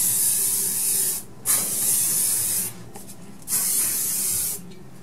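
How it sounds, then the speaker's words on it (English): Hairspray hisses from an aerosol can onto curled hair in three sustained, close bursts separated by short gaps, with no talking. "So next we just give it another spritz of hairspray."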